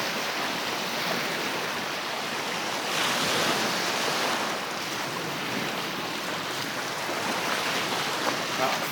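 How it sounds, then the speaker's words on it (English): Small sea swell laps on a beach at Fort Victoria on the Isle of Wight, a steady close wash of surf with a slightly fuller surge partway through. "There's a little bit more lap of the swell."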